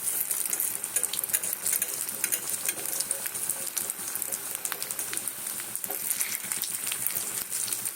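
Pakoras sizzle steadily in hot oil, a dense crackling hiss with scattered sharp pops that runs throughout at moderate loudness.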